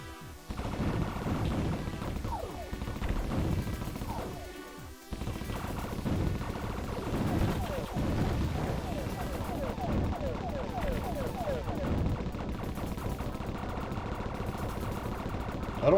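Turret gunfire in a video game, a continuous barrage of rapid mechanical shots and impacts that carries on loud and dense throughout, with game sounds mixed in and a voice talking over it.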